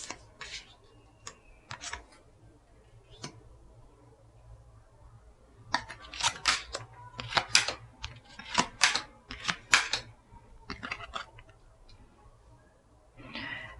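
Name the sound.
tarot cards being laid out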